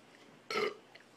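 A single short, loud burp close to the microphone, rising out of quiet room tone and ending abruptly.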